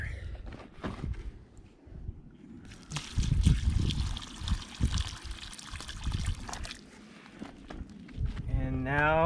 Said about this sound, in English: and then we'll add water